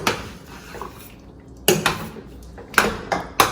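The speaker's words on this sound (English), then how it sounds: "Mix it up well." Spoon scraping and knocking against a pot while pork chile verde is stirred, several sharp clinks in bursts over a soft background with quiet gaps between.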